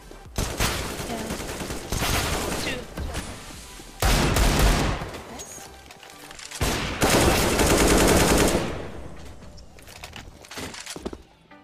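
Pistol and rifle fire from a Desert Eagle and an AK in Counter-Strike, heard as several dense bursts of loud shots with brief pauses, plus a faint sharp crack near the end.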